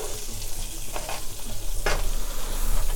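Onions frying in butter and oil in a pan for caramelised onion mini quiches, a steady close sizzle with a couple of scraping stir strokes, fairly loud and without speech.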